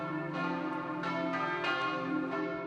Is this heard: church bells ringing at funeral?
yes